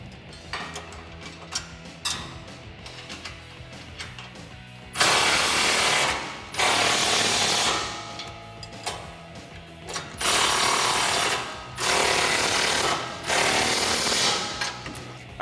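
A power tool with a 19mm deep socket on a swivel drives the bolts of an Addictive Desert Designs Stealth R rear bumper on a 2009-2018 Ram. Soft clicking comes first, then five loud, harsh bursts of a second or two each, separated by short pauses.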